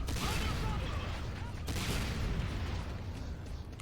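Rocket launcher fire in the Command & Conquer Renegade game comes as a dense, continuous roar of blasts and booming explosions that stays loud and even throughout.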